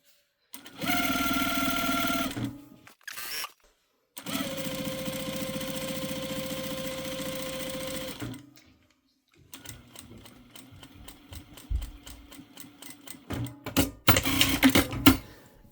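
A sewing machine hems wool blend fabric in close-up bursts: two long, steady runs of whirring stitching with pauses between, then stop-start clatter and a final quick burst.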